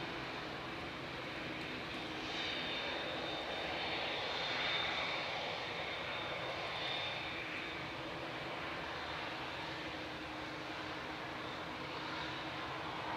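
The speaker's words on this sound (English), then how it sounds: "this is Alfie, 2EB, departing to Rhodes with flight 2400. It's a 787-8 Dreamliner." Boeing 787-8 Dreamliner departing Manchester Airport for Rhodes, a faint, distant engine rumble and whine that swells gently and then lingers as a steady far-off drone, with no voices.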